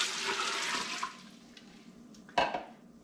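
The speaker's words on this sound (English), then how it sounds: "then you're gonna add 10 cups of water" Water poured from cups into a pot of rinsed beans in a home kitchen: a splashing, rushing pour at the start that fades, then a short sharp splash or clink later.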